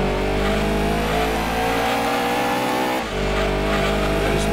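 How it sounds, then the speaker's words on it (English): A Lancia Stratos engine in Gran Turismo 2 revs loudly and continuously, a droning synthetic-sounding motor with a brief dip in pitch before it climbs again. "The engine noise that comes off that thing is just, it's unreal."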